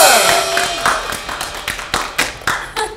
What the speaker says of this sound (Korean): 아이 좀 성의있게 박수 쳐주세요.